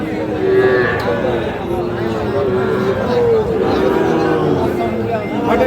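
Sahiwal cattle at the Ambari market give low, sustained moos repeatedly throughout, under a busy backdrop of crowd noise and people talking.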